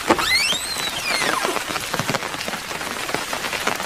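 Steady rain falls at night in a cartoon scene, a dense, continuous patter of drops on surfaces, loud and close throughout, with no speech.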